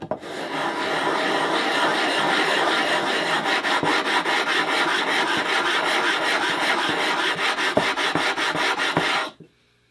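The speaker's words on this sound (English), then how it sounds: "So let's take it out and just grind until the grid is all gone." A kitchen knife is ground steadily on an old, scooped waterstone, giving a continuous gritty rasp with rhythmic back-and-forth strokes, close and clear. It runs for about nine seconds and stops abruptly.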